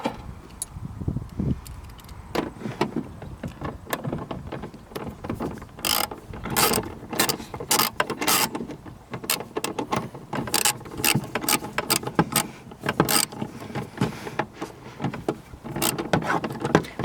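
A hand ratchet tightens two tail light nuts in rapid bursts of crisp metallic clicking, near and fairly loud, with short pauses between the runs of strokes and no talking.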